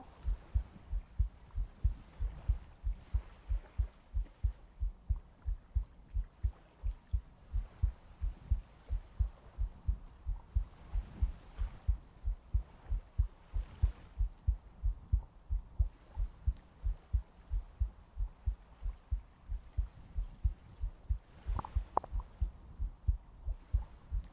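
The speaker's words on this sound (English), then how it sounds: "Wow, more heartbeats." Heartbeat sounds in an ASMR stream, a steady low thumping pulse repeating at a regular rhythm, close and soft, running the whole time with no talk.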